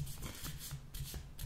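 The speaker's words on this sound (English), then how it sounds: "please do it 3 times as I'm shuffling the cards" Soft, close shuffling of tarot cards, a rapid papery riffle repeated in short bursts over a low background hum.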